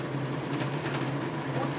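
Metal lathe spinning at high speed after a balancing adjustment, a steady rough mechanical whir and rattle, close and continuous with no talking.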